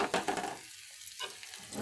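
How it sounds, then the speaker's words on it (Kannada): Garlic frying in hot oil in a home kitchen pan, a soft steady sizzle that starts loud with stirring scrapes, drops away to near quiet for a moment, then returns faintly. "ಬೆಳ್ಳುಳ್ಳೆಲ್ಲ ಹಿಂಗೆ ಎಣ್ಣೆ ಒಳಗೆ ಫ್ರೈ ಮಾಡ್ಕೊಳ್ಬೇಕು"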